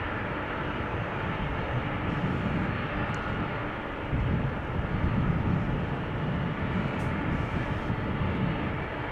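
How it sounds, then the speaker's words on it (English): A United Boeing 767-300 jet at Amsterdam Schiphol Airport gives off a continuous, fairly distant engine roar that swells slightly toward the middle, with no voices over it. "It is a United 767. It's going to Washington. 767-300."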